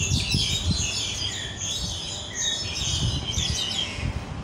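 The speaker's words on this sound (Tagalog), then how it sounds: "Ang ingay ng mga ibon dito." Several birds chirp and trill in bursts, fairly close and lively, with faint outdoor rumble and some low handling noise beneath.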